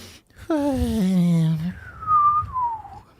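A voice imitates a nose whistle: a sliding, buzzy nasal tone, then a thin high whistle that wavers and fades, soft and close.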